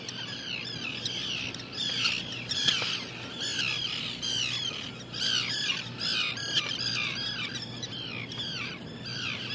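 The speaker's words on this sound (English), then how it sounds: "There sure is a lot of bird activity here in the inner harbor of Gloucester. See these little guys dive bombing into the water." Seabirds in Gloucester's inner harbor keep up dense, overlapping squawks and shrill calls while diving into the water, a busy continuous chorus at moderate distance with no talking.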